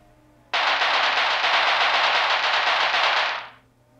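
A Tommy Gun sound effect: one loud, sustained burst of rapid-fire automatic shots that starts abruptly, rattles steadily for about three seconds, then tails off into silence.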